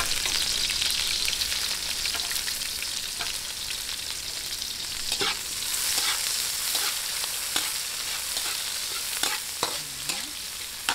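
Garlic and onion sauté in a pan for a Filipino lumpia-empanada filling, a steady close sizzle running throughout with occasional sharp scrapes and taps of a stirring utensil.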